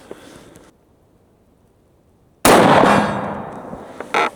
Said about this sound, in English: Okay, gonna shoot the lower left.